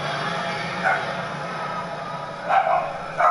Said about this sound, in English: Got puppies in the studio.